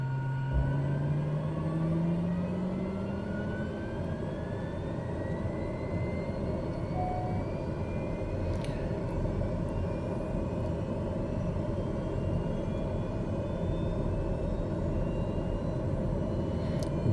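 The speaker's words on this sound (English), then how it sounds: "And engines are starting up" Airplane engines spooling up in a cockpit before flight, a steady broad rumble with rising whine tones that runs unbroken throughout, close and fairly loud.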